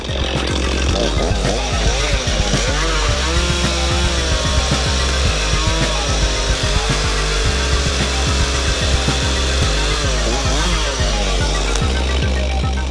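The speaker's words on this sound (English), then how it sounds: "This chainsaw, it probably needs a tune-up" A chainsaw in need of a tune-up snarls loudly and continuously, its engine pitch rising and dipping as it bites through a tree branch.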